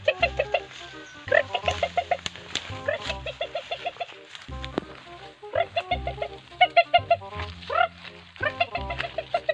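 Chickens cluck repeatedly in short bursts throughout, close and fairly loud, with a rooster-like call mixed in and faint human voices in the background.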